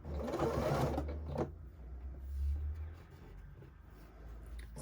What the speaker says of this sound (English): So as you're sewing, make sure you're helping your machine carry this side through